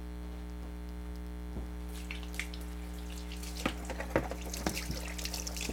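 A kitchen tap runs while something is rinsed under it, a soft splashing and spattering over a steady low electrical hum, with the water growing more active partway through.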